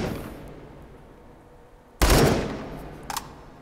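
Fully automatic gunfire in the VR game Hot Dogs, Horseshoes & Hand Grenades: a loud, close burst erupts suddenly after a quiet stretch, followed by a couple of sharp single shots.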